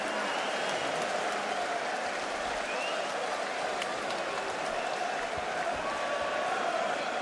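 A boxing crowd applauds and cheers Kostya Tszyu after his fight with Ricky Hatton, giving a sustained wash of clapping and arena noise with faint voices mixed in.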